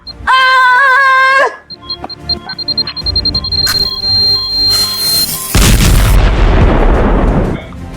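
A bomb on a Lego Bombardier Crocodile set goes off: a tonal blare and a string of high beeps lead into a loud, broad blast that roars on for about two seconds.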